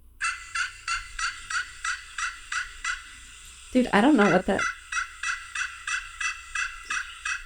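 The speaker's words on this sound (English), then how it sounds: "It's a turkey." A turkey gobbles repeatedly in a steady, rapid rhythm of bright, close calls, broken midway by a short burst of a voice.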